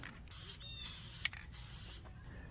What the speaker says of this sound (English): We're going to apply the spray adhesive to the inside of the cover.